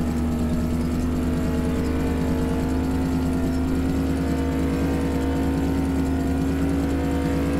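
1969 Dodge Charger General Lee engine in the Farming Simulator 2017 video game, a steady, loud droning V8 hum at constant revs, held without a break.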